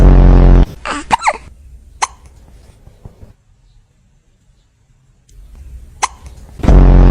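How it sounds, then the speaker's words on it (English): A cat gives a handful of sharp, separate hiccups spaced across a quiet stretch, close to the microphone, with a person's voice loud at the start and end. "Have you got hiccups?"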